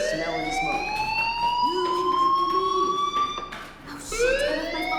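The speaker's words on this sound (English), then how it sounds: "do you hear that fire alarm? That means you should be outside." A fire alarm in the Life is Strange video game wails with rising, repeating electronic sweeps, loud and continuous, dipping briefly before the next climb.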